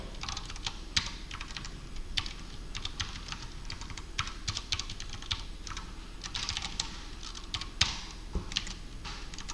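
Fast, steady clicking of a computer keyboard as Java code with a while loop is typed, each keystroke crisp and close against a faint background hum, with no voices.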